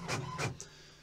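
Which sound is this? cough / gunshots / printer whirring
printer whirring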